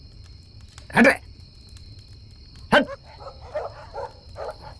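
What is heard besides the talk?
dogs barking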